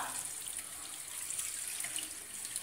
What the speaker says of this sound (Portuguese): Olha, dou uma lavadinha, que é para tirar aquela goma do macarrão e interromper o cozimento.